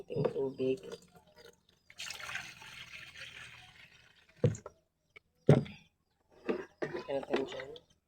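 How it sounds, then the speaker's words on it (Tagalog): A little water poured while dishes are being cleaned at home, a brief splashing run of liquid between stretches of a person talking, followed by a couple of sharp knocks and more speech. "Lagay lang tayo ito ng konting tubig."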